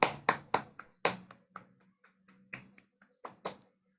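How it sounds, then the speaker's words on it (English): A hand clapping during an online ESL class, about a dozen separate sharp claps in an uneven rhythm, loud at first and then fading softer, close to the microphone with no voices over them. "Teacher, I'm clapping in case you didn't see."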